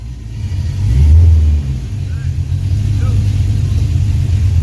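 A 1983 Oldsmobile Cutlass T-top's engine runs close by, a loud, steady low rumble that swells briefly as it revs, with a voice faintly present.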